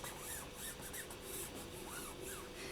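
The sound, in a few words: burnishing a silk screen onto polymer clay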